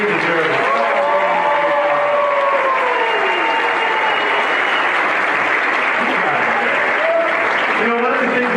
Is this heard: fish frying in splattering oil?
no